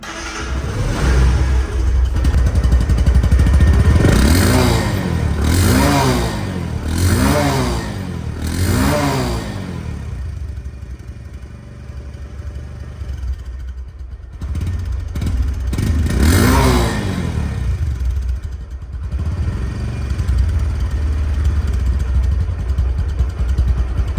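A 2024 Discover 125cc motorcycle with very low mileage runs close by, its engine rising and falling through several rhythmic revving surges over a steady idle, with no talk.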